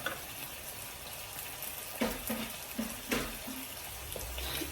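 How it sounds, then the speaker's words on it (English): A splash of water hits green beans sizzling in a hot pan, a steady hiss with a few louder bursts of crackle and bubbling, fairly faint and with no talking. "I'm going to add just a little bit of water."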